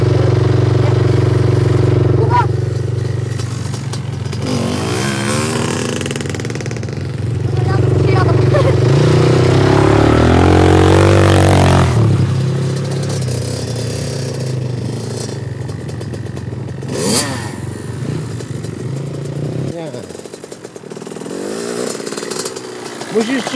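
A quad bike engine revs hard and rises in pitch, holding a loud, rough drone up close before dropping away, with people shouting nearby.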